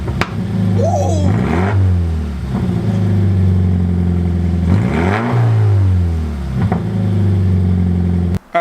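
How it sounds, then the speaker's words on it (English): Toyota GT86 fitted with a near straight-piped Invidia exhaust, revved hard twice in rising, falling sweeps over a steady idle, close and loud, with brief excited voices between the revs. "Give it a rev!"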